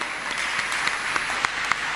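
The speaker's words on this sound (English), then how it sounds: "Let's give him a thunderous round of applause, everyone, once again." A crowd applauds with steady clapping at a World Space Week school event, moderately loud and sustained for the whole moment, no voices over it.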